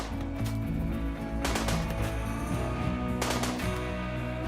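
Gunfire in the colony-building game RimWorld rings out over a dense, busy game soundtrack, with a few sharp broadband bursts standing out amid continuous layered music and effects.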